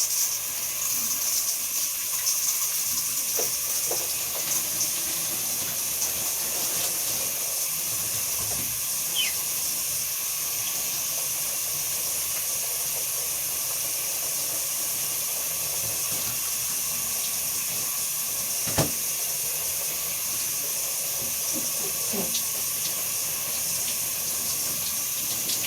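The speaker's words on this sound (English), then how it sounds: "Water back on." Shower water runs steadily from the head in a bathroom, a continuous close hiss and splatter with small shifts as the spray strikes a body and surfaces, no voices.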